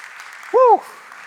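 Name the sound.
congregation applauding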